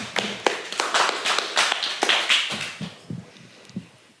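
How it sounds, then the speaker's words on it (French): An audience applauds under a circus tent after a talk, with a dense patter of clapping that is strong at first and thins out toward the end into scattered claps. "Je pense qu'on peut applaudir"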